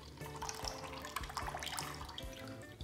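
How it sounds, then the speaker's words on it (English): Juice pours from a freshly opened can of pineapples into a sink or container, a steady trickling splash with small drips and a few clunks, close by. "You just pour the juice out."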